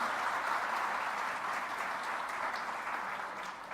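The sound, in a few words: audience applause for winners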